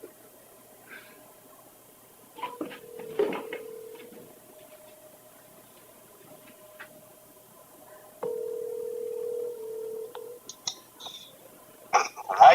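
A phone call dials out through a speakerphone, with faint tones and clicks followed by a steady, sustained ringback tone in a quiet room.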